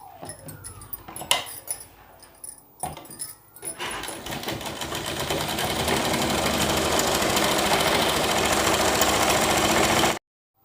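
A domestic sewing machine stitches four-panel petticoat panels together, starting in short bursts before settling into a long, steady, loud run of rapid needle rattle that stops abruptly near the end.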